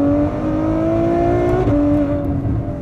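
A 740-horsepower Ferrari F12 pulls hard down a track's start-finish straight, its engine note climbing steadily, dipping briefly at an upshift, then rising again, loud and close with no voices.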